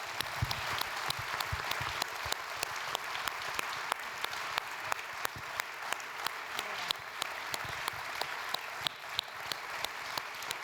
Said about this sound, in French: je vous demanderai d'applaudir fortement toutes les associations qui agissent au profit